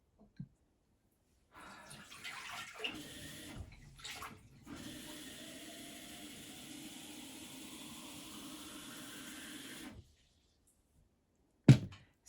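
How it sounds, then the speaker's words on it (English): Tap water running into a container as dirty, green paintbrush rinse water is changed during watercolor painting, a steady splashing stream lasting several seconds after a few clunks, then silence and a final sharp knock. "So I just quickly switched my water out because it was very green"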